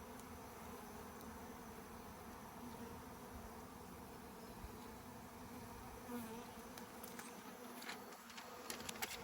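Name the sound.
honeybee swarm buzzing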